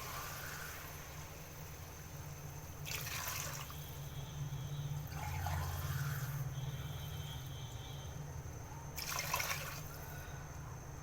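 Water is poured into a cooking pot for beef haleem in three separate splashing bursts with pauses between them, over a low steady background hum.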